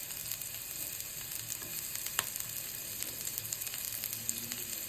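Chopped onion fries in spice masala in a pan for soupy noodles, giving a steady close-up sizzle with faint crackles and no voices.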